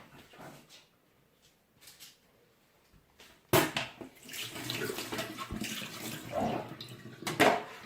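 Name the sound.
squeezing grated coconut to extract coconut milk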